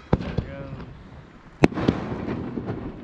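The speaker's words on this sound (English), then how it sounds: "Got some fireworks. That's cool." Fireworks going off over the Gulf around the Fourth of July, heard from out on the water: a few sharp separate bangs and pops spaced across a few seconds, with low background murmur between them.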